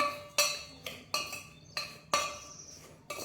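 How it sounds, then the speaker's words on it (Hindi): Spoon clinking against a bowl while turmeric, red chilli powder and asafoetida are stirred together, five or six sharp metallic strikes at uneven intervals, close and alone with no talking. "तो अब हम इनको अच्छे से मिक्स कर देते हैं"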